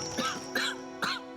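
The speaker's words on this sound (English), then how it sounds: "She chuckles herself into another coughing fit." A female character in the video game Pillars of Eternity 2 breaks into a coughing fit: three separate harsh, throaty coughs spaced roughly evenly, close and fairly quiet, with no talk.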